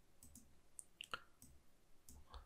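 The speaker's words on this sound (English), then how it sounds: "My hands are hurting, too much clicking." Sparse computer mouse clicks, several quick, faint taps spaced irregularly over a quiet background during work on character lighting in Unreal, with no talk.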